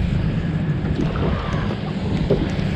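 Wind buffets a boat on Lake Murray under cloudy weather while fishing for crappie, a steady close roar of gusts and microphone rumble with faint water lapping.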